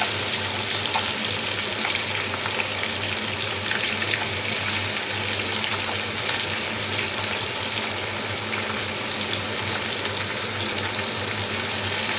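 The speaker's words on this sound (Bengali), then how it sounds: "এটা কিন্তু ভাজা হয়ে গেছে এবার অন্য পাশটা উল্টে নেব" Native koi fish fry in a pan with a steady, dense sizzle and crackle that holds an even loudness throughout, with no talking.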